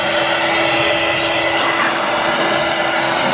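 An electric air blower at the Mystery Hill roadside attraction runs steadily and loudly, a constant broadband whooshing roar with a faint tonal hum, filling the whole stretch without pause.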